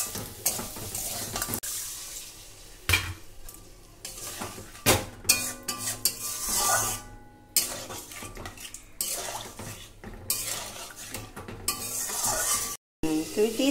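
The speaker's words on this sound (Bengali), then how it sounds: "এবার আমি জল দিয়ে দেবো।" Water poured into a pan of egg curry sets off loud bursts of sizzling and bubbling. A spoon clatters and stirs against the metal pan in uneven spurts, with short quiet gaps between.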